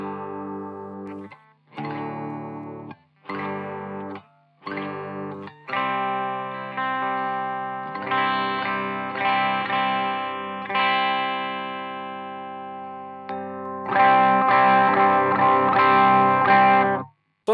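A Hagstrom Fantomen electric guitar played cleanish through its single coil pickup, with picked notes and chords ringing out bright and close, first in short stops and then longer sustained strums, with no voices.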